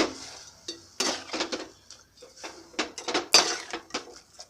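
Tamarind water mixed with salt being stirred in a vessel, heard as a close series of irregular metallic clinks and scrapes of a spoon against the container, with short gaps between strokes and no talking.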